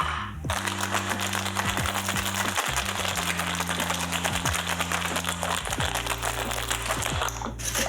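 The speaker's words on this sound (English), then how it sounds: "fill our shaker with ice and give it a good shake for about 10 seconds" A cocktail shaker packed with ice is shaken hard for a strawberry shrub drink, a dense, steady rattle of ice running nearly nonstop for several seconds, loud and close over a soft musical backdrop.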